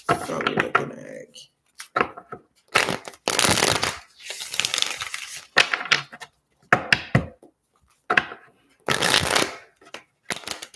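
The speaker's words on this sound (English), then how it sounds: "I'm just addicted to shuffling." Repeated bursts of tarot cards being shuffled, crisp riffling rattles in short clusters separated by pauses, close and clear, with occasional talking in between.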